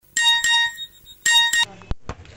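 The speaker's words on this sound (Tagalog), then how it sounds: "Dali-daling tinawagan ni Marjorie si Sally" A telephone rings in a radio drama, two bursts of bright electronic trilling separated by a short pause, loud and close, followed by brief clattering sounds.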